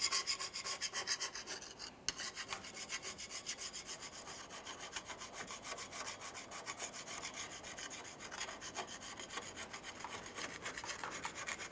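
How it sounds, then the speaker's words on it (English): Flat blade razor scraper working over a rear differential housing on a 2003-2011 Mercury Grand Marquis, a close, steady rasping scrape repeated in quick rhythmic strokes throughout, with no talking. "continue on with a flat blade razor or a scraper and clean down the differential"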